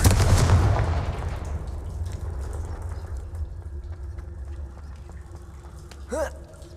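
A heavy Confringo spell blast from Hogwarts Legacy opens loud and booming, then its rumble decays into low game ambience with faint clicks.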